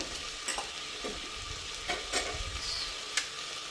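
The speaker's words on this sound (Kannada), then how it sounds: "ಈಗ ಅದ್ರ ಜೊತೆಗೆ ಎಲ್ಲ ಫ್ರೈ ಆಗುತ್ತೆ" Masala with salt frying in a pan for fish curry, a steady soft sizzle broken by a few scraping stirs of the spoon at irregular intervals.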